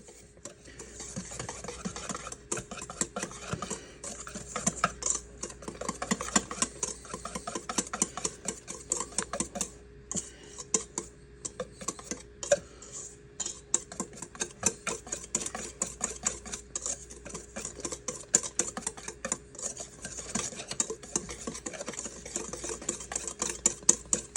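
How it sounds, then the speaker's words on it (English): A whisk beats beer bread batter ingredients in a bowl with a rapid, steady patter of light clicking strokes against the sides, continuing evenly throughout at moderate volume. "we're going to whisk this up real quick"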